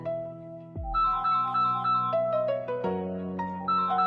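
A mobile phone ringtone plays a bright melodic electronic tune with clear sustained notes, loud and close, alone with no voices.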